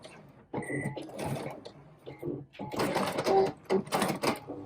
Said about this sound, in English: And just stitch back and forth.